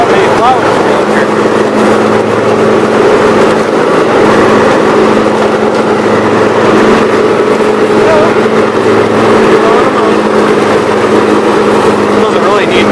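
A riding lawn mower with worn idler pulleys and spindle bearings runs steadily near a house, its engine drone loud and constant throughout with no pauses.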